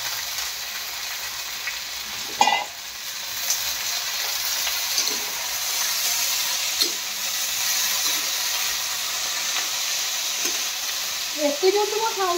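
Potatoes fry in a pan with a steady close sizzle, punctuated by occasional scraping and clacking stirs of a utensil, with no talk.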